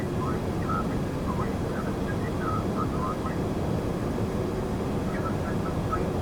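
In Microsoft Flight Simulator X, a simulated aircraft holds a steady, loud engine roar through the takeoff run, even and unbroken throughout.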